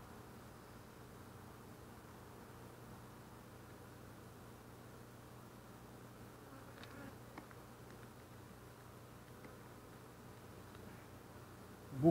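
Honeybees at a very productive beehive give off a faint, continuous low buzzing hum that holds steady throughout, with a soft rustle near the end.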